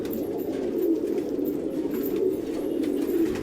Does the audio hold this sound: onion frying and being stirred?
no